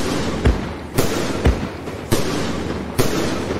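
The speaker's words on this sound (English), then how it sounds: "That's a very heavy sound that comes out of the cake there." Fireworks cake in the video game Fireworks Mania, firing four heavy booming shots at roughly one-second intervals, loud and close, with crackling noise filling the gaps between blasts.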